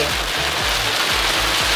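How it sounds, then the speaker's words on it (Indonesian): Heavy, storm-like rain drums steadily on a surface during a road trip in Bali, a dense continuous hiss with low engine-like hum underneath, loud and close with no talking. "Hujan gede banget guys."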